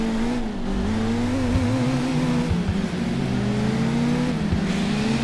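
Nitrous-boosted car accelerating hard in the video game Crash Time II, a loud continuous engine roar with rising revs and gear shifts, alone with no talk.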